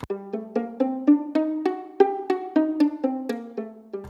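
A guitar plays a steady run of single plucked notes, evenly spaced and ringing clearly, moving through a G harmonic minor scale with no voices.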